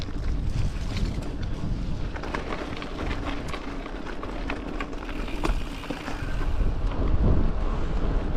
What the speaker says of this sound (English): Oh, there's a bit of wind on here.